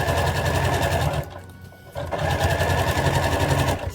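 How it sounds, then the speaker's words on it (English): A sewing machine runs a regular 2.5 stitch along pinned overall pant seams, a fast steady mechanical whir, loud and close, with a brief slowdown and pause partway through before it resumes. "So at the machine, you're going to sew the seams that you just pinned."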